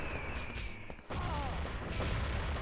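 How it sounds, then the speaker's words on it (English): Grenade explosions and gunfire in a competitive online shooter match, a loud dense clatter of blasts and shots with a sharp break and renewed heavy firing, no voices heard. "Nades coming in from all angles."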